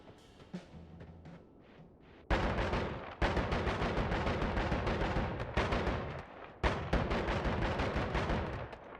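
A powerful gun in the video game Noita fires three bullets at high velocity, sharp loud blasts repeating every second or so with booming decays, alone without talk.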